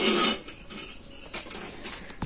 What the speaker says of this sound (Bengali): এবারে আমি ফুলকপিটা কুটে নেব।